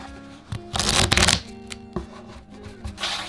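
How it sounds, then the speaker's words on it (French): Playing cards shuffled for a game of Yaniv, a burst of riffling around the middle followed by softer, shorter riffles and card taps, close and alone. "c'est au partenaire de mélanger vu que c'est moi qui vais commencer"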